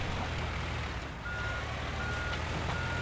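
A dump truck reverses amid a demolished construction site in Teardown, its steady backup beeper pulsing over a constant low engine rumble, fairly close and without any talk.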